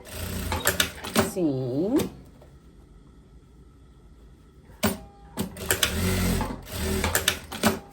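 Sewing machine stitches closed the tip of a viscose dress collar lined with knit interfacing, loud close bursts of rapid stitching before and after a quiet pause, with someone talking over parts of it.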